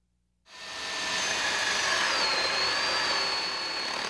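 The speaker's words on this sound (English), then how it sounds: "Now let's see how easy it is to use the Miyanaga wooding core bit from drilling to slug" A Miyanaga wood core bit drills into wood, starting abruptly after a moment of silence and settling into a steady, loud high-pitched whirring grind that holds to the end.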